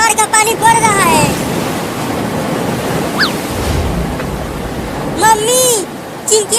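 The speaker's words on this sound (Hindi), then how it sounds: "बाढ़ का पानी बढ़ रहा है।" Cartoon floodwater rises with a loud, continuous roar like surf and wind, while high cartoon voices and chirpy vocal sounds break in over the rushing water.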